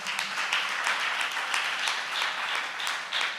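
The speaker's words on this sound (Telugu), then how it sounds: "చప్పట్లు కొట్టి దేవుని మహిమపరుద్దామా?" Church congregation applauding at a Sunday service, steady continuous clapping from many hands filling the whole stretch at moderate loudness, with no voice over it.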